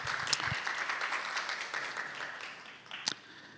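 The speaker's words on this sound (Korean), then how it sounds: "우리 나오실 때 하나님께 영광이 되고 우리 형제님께 격려가 될 수 있도록 뜨거운 박수로 모시도록 하겠습니다" A church congregation at a Sunday youth service claps warmly to welcome a baptism candidate, with steady applause that slowly fades and a few sharp knocks along the way.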